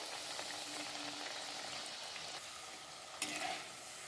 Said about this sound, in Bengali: পিঠেগুলো এবার ভাজা হয়ে গেছে